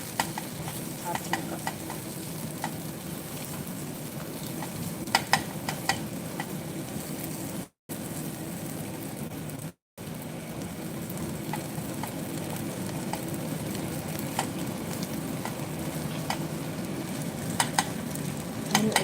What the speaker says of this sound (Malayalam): ഗ്യാസ് സ്റ്റവ് ഓഫ് ചെയ്തിട്ടുണ്ട് പക്ഷേ ആ ചൂടുണ്ടല്ലോ ആ ചൂടിൽ ഇരുന്നിട്ട് കരിയും അതാണ് അങ്ങനെ ഇളക്കിക്കൊണ്ടിരിക്കുന്നത്